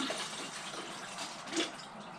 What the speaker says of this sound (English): Pour it out once. Pour the other 500 ml